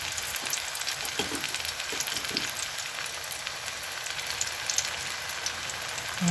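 Beaten eggs frying in a pan for an eggplant omelette, a soft continuous sizzle with light crackling and a few faint clinks, quiet and close.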